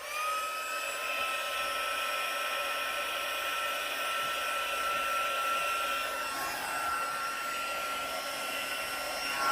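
A heat tool blows a steady, loud whirring hiss while melting gold embossing powder on cardstock, running continuously and close up with no talking.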